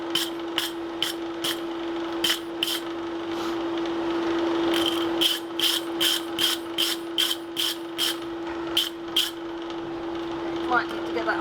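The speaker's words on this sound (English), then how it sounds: "So we're just cleaning it up so we can see if we can get 100 years or so worth of scale off," Rust and century-old scale being scraped and wire-brushed off an old anvil for a 15th-century post anvil build: a steady run of sharp, rhythmic rasping strokes over a constant mechanical hum, fairly close.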